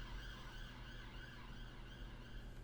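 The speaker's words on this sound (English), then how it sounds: "Sirens outside my window." Sirens wail outside a window, faint and distant, with a steady rising and falling tone over low background rumble.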